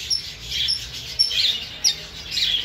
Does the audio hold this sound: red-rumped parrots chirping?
yes